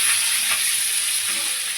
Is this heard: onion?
yes